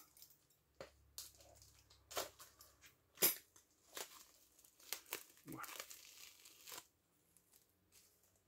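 An Amazon package of video games is cut and torn open with scissors at home, giving irregular crinkling, ripping and rustling bursts that are close and fairly loud, with short pauses between.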